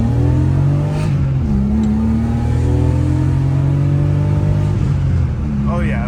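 A car engine revs hard while accelerating through the gears, a loud, close drone that climbs in pitch, drops sharply at each shift with a fuel-cut stutter, then climbs again, with people talking over it.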